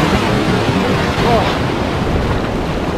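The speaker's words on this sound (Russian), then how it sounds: "вроде бы небольшой накат, но волны действительно очень опасные." Stormy Black Sea surf at a sandy beach in Vityazevo near Anapa, a steady loud roar of crashing waves with heavy wind buffeting the microphone throughout.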